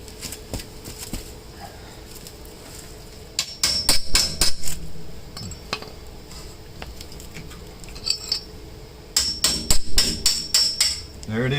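Hammer striking metal during Audi off-road lift fabrication, sharp ringing clanks in two bursts of rapid blows, with quieter knocks between them in a workshop.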